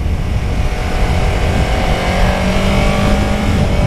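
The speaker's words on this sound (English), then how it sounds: "release the clutch and give it a bit of gas" A new motorcycle being broken in accelerates steadily in first gear on an open road, the engine's drone rising in pitch under loud, constant wind rush, with no voices.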